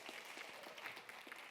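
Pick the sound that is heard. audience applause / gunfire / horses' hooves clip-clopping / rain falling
audience applause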